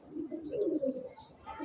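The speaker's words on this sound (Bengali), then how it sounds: "যখন সে ডাকাডাকি করে খুবই এক্সপেন্সিভ লাগে এই ডাকের শব্দটা।" A large white female Spanish pouter pigeon gives a short, soft cooing call up close, quiet and alone.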